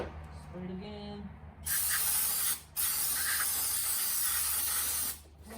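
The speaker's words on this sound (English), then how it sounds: "Spray it again." A spray can hisses onto the brake caliper of a 2012 Nissan Titan in two long, loud bursts with a brief pause between, preceded by faint low voice-like tones.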